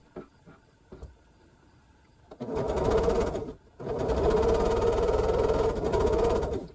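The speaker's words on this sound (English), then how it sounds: "So I will just chain piece those 4 small units." A sewing machine chain-pieces four small quilt units for an airplane block, its steady mechanical whir starting after a few quiet taps, pausing briefly, then running again close and continuous.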